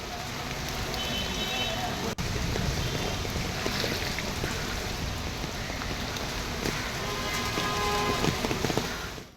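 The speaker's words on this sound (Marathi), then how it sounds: "मुंबईमध्ये सकाळपासून जोरदार पाऊस होतोय" Heavy monsoon rain pours steadily in Mumbai, a dense hiss of drops drumming on surfaces that continues without a break.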